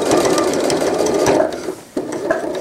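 A close sewing machine stitches forward and back over a small fabric tab, its loud, continuous rattling whir pausing briefly as it changes direction, then resuming.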